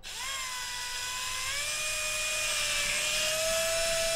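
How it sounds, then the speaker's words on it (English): A high-pitched power drill whines steadily close by, drilling a hole for a dryer vent in an RV camper wall, its pitch rising slightly as it spins up and holds for several seconds. "First thing we're gonna do is drill a hole."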